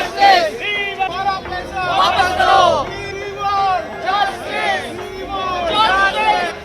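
A crowd of protesters gathered outside Mumbai's Kila court over the PMC bank scam, a loud babble of many voices that swells and shouts in waves, near and continuous.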